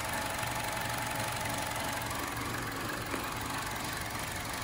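A Chevrolet Cruze engine, newly fitted with a turbo, idles at its first startup, a faint steady hum with slight knocking vibration, heard alone.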